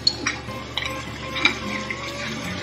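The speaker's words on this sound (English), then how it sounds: "And add to that, stir it up a bit." Spices stirred into ingredients for cooking fish, a spoon scraping and clinking steadily against a pan over a faint sizzle, with no voices.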